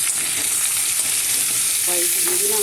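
Homegrown sweet pumpkin fries in an oiled wok with a loud, continuous sizzle and crackle, close up and steady throughout, with no talking.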